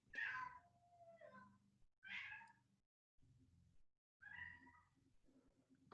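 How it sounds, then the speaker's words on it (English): A house cat meows loudly several times, drawn-out and insistent cries separated by short pauses, close and alone with no speech. "Sorry, my cat is going crazy."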